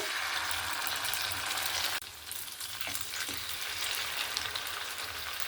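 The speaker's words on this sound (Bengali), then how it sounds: "তেলটাও এখানে গরম হয়ে গেছে এবার কোট করা নাস্তাটা আমি তেলের উপরে এরকম দিয়ে দেব" Coated snack pieces sizzle and crackle steadily in hot oil, a dense continuous frying hiss with a brief dip as more pieces go into the pan.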